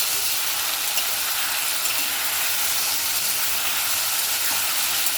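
Potatoes fry in a pan, partly covered, producing a constant, fairly quiet hiss of oil with no talking.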